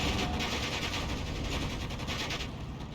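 Dense distant battle noise from Steel Division II, with artillery and strafing aircraft guns blending into a continuous rumbling, crackling wash, steady and moderately loud.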